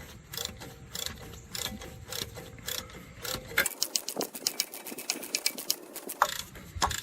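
Ratchet loosening a 12 mm bolt at the back of an alternator on a 2004 Infiniti G35, quick sharp clicking bursts in fast runs, fairly close and moderately loud amid faint workshop noise.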